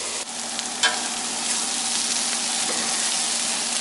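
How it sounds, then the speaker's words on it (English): Stuffing ingredients simmer and sizzle in a pot on the stove, giving a steady broadband hiss throughout with a brief scrape of stirring near the start. "We'll stir it, cover it, and bring it to a simmer."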